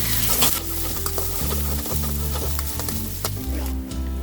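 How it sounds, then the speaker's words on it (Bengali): Chopped ginger and garlic fry in hot oil while being stirred for a beef nehari, a steady sizzle broken by scraping stirs of the spoon against the pot, close and unvoiced. "তারপর এটার মধ্যে দিব আমি আদা কুচি, রসুন কুচি, নাড়তে থাকবো।"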